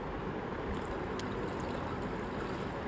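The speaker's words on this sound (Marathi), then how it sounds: "आणि थोडंसं थंड पाणी टाकायचं त्याच्यावर, म्हणजे नूडल्स चिकटत नाही" Cold water pouring steadily over drained noodles in a metal colander, a continuous close splashing rush with no break, alone without talk.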